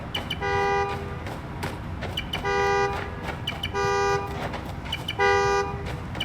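Car horn honks repeatedly when a remote key fob is pressed in the Spider-Man: Miles Morales video game: four steady toots in an even rhythm, each about half a second, over a busy city street background.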